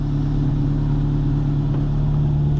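A Ford Focus engine idling steadily, a low continuous hum and rumble heard close and fairly loud with no change in pitch, no voices.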